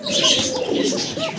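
A Govinda kaka pigeon coos close by, a short, throaty, rolling call with no other sound.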